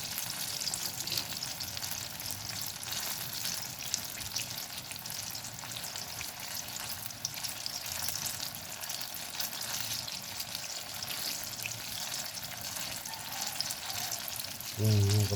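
Eggplant sizzling as it fries in a pan, a continuous crackling hiss held steady and close throughout, with no voices over it.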